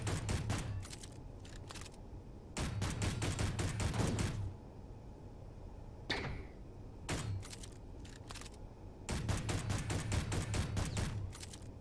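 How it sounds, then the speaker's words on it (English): Rapid bursts of gunfire in Space Engineers, fired in several clusters of quick sharp shots separated by short pauses, loud and close with no talking over them. "It takes 15 shots to take that thing out."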